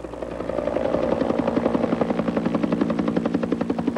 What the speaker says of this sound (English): The helicopter brought them to another boat and to shore.